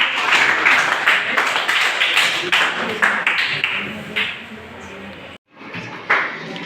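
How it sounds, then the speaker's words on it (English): Audience applause for a group of grade 9 students at a school news review event, dense and steady clapping from a crowd with a brief gap near the end before a final burst. "Please clap for them"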